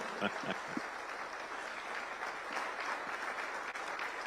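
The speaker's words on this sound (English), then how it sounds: "The Kenyan tradition is that we clap when he's coming in, so feel free to do so." An audience at a Kenyan official event claps steadily as the President enters, a sustained wash of applause with a few louder claps and faint voices mixed in.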